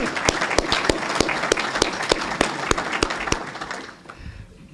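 Audience applause at a county State of the County address, a dense burst of clapping from a crowd with a few sharp distinct claps standing out, loud and steady before thinning and fading out near the end.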